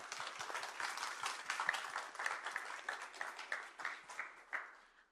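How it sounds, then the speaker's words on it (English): An audience claps for panelists at a Democratic Party event on redistricting, a quiet, distant round of applause with individual claps audible, slowly thinning and fading out toward the end. "I want to first give a round of applause to our amazing panelists"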